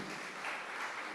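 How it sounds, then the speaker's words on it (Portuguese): A church congregation applauds the Lord during a Portuguese-language sermon, producing a short burst of dense, steady clapping without speech. "começa aplaudindo ao Senhor"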